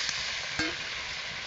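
Cut potatoes fry in a spice paste in a pan, making a soft, continuous sizzle with a brief stirring scrape partway through, quiet and close with no voices.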